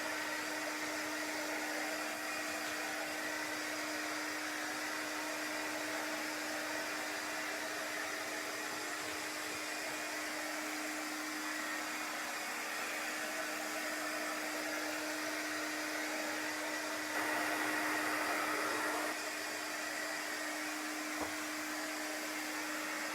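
A heat dryer blows over freshly applied chalk paint, giving a steady, even whir that runs on continuously up close, with no talking.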